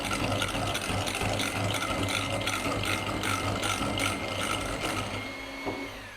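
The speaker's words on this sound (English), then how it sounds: "stir this in here with the mixer until the sugar's like dissolved in the egg whites" Electric mixer whirring steadily as sugar is beaten into egg whites for eggnog, a loud continuous motor drone with a rattling texture, easing off near the end, no voices.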